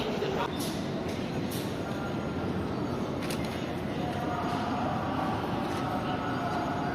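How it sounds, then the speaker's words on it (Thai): A metro subway train arriving at an underground station, a continuous loud rumbling roar of the train that fills the whole stretch, with a few faint clicks above it. "รถไฟมาแล้ว"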